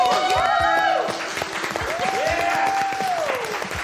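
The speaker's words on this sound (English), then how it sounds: "Give yourselves a round of applause." A studio audience at a televised pottery competition claps in a dense, sustained round of applause with cheers and whoops rising over it, loud and close throughout.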